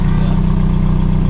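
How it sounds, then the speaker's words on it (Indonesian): Used car engine idling during a pre-purchase inspection: a steady, even low rumble with a regular pulsing beat, loud and close, with no talk. "kita cek lagi untuk mendengarkan suara mesin"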